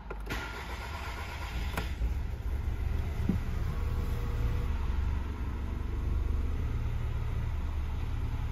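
An Audi car engine idles steadily at constant RPM, a continuous low rumble heard from inside the vehicle, with a brief click near the start.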